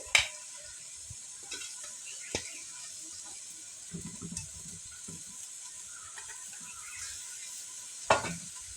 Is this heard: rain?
no